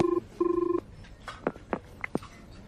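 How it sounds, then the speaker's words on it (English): An office telephone line rings with two short electronic trill bursts in quick succession, followed by a few soft clicks and taps. "It's ringing for you now."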